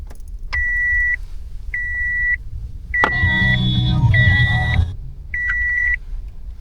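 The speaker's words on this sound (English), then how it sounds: "Turn on my car again." A car starting up, with a dash cam chiming: repeated electronic beeps come in short bursts, then at three seconds a sudden broadband burst of cranking and engine catch runs for about two seconds before settling, with further beeps after, fairly close.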